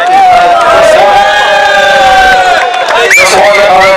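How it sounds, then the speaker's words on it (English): A loud crowd at a Guyana Cup cricket event cheers, whistles and claps continuously for the team owner, with whoops rising over the dense roar. "A round of applause for your team owner"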